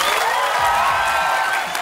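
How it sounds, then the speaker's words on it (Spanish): A live television studio audience on the upper second-floor seating applauds, a dense, steady wash of clapping with a few whistles and shouts mixed in, loud and close throughout. "¡Que solo aplauda el segundo piso!"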